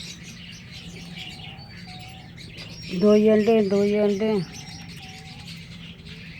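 Pet pigeons cooing near their chicks, a loud, close run of low, steady cooing notes lasting about a second and a half in the middle, set against faint background chirps and someone speaking quietly.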